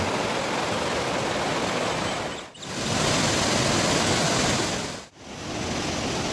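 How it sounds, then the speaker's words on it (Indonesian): A steady, dense roar of falling water from Curug Sawer waterfall at Situ Gunung, Indonesia, fills the air without pause, loud and close, broken by two brief dips in volume. "semakin terdengar suara gemuruh air terjunnya"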